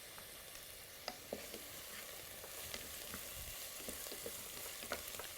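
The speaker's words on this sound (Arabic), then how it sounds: "بنضيف الصوص اللي احنا عاملينه، صوص الطماطم" Homemade tomato sauce with garlic and spices poured into a hot pan for eggplant fatteh: a soft, continuous sizzle and bubbling hiss with scattered faint ticks and scrapes, no voices.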